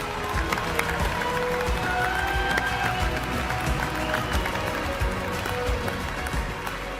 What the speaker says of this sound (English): Let's take a moment to applaud these incredible achievements.